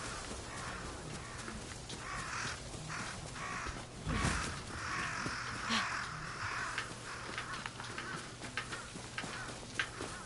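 Several crows caw repeatedly in a misty outdoor scene from the video game Ghost of Yotei, calls scattered across the stretch over a steady low ambient hum, with one brief low thump midway.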